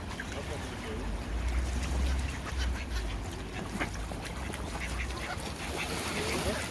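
Ducks quack in scattered bursts while being thrown bread in cold, rainy Netherlands weather, with voices and water-side noise around them throughout.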